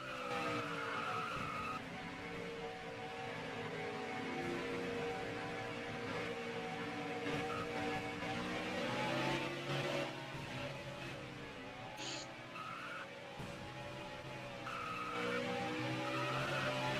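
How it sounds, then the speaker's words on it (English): Race cars doing burnouts at Bristol Motor Speedway in a racing game, engines droning while tires squeal and skid continuously in loud sustained screeches, with brief harsh peaks. "He's going to go ahead and do massive burnouts here at around turn 4"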